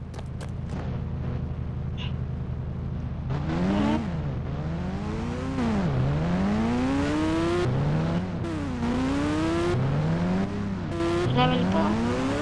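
A Mercedes G-Wagon engine revs up again and again, its rising whine dropping at each gear change before climbing once more, loud and close over a steady low rumble, with no talking.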